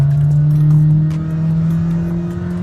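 A Toyota Voxy 2000cc MPV pulls away under acceleration. The engine drones loudly and close, its pitch rising steadily as it revs, with no speech over it.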